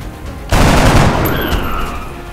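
Gunfire in the X-Com: Enemy Unknown game, a sudden loud burst of shots that rings on with a long echoing tail and a faint high whine, with no talking.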